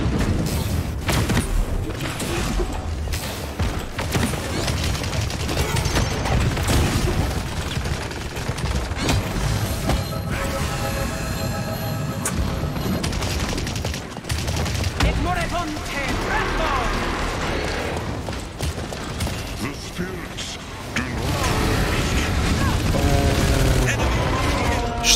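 Rapid gunfire from Imani's weapon in the hero shooter Paladins, a dense, sustained fusillade with booms and mechanical clatter, mixed under continuous talk and game noise.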